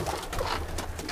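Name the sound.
pigeons released from their room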